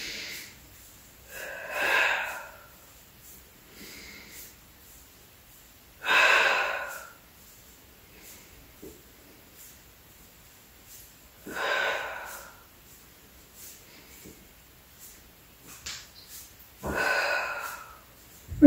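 Rhythmic breathing during an abdominal workout, with four strong breathy bursts of air at a steady pace of a few seconds apart, close and fairly loud, with quiet pauses between them.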